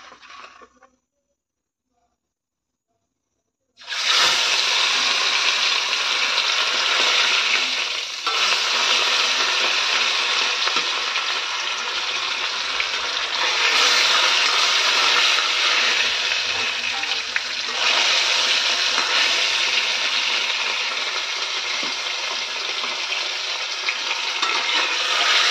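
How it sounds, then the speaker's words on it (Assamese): Fish fries in a hot wok, a loud continuous sizzle and crackle that bursts in after a short quiet opening and holds steady at close range. "মাছটো ভাজি লম মই ধুনীয়াকৈ।"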